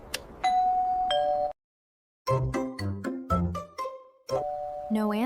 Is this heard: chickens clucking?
no